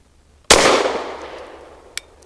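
A single loud Caracal Enhanced F pistol shot, sharp report with a long decaying echo, followed about a second and a half later by a faint metallic click, recorded outdoors at a range with no talking.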